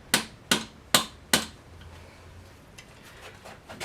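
Working a screwdriver against a Porsche 928 crankshaft seal: four sharp, evenly spaced metallic taps close up, then faint scraping and small clicks.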